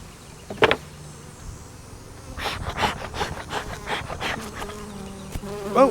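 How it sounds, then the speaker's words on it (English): Honey bees buzz around an open beehive being worked, a close, continuous drone with individual insects passing near, over intermittent knocks and handling noises of the hive equipment. "Lots of bees in this hive, I'm glad to see that."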